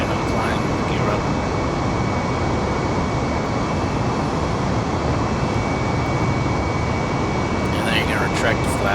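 Airbus A320neo on its takeoff roll in Microsoft Flight Simulator, a steady loud broadband engine roar holding constant throughout, with someone talking over it.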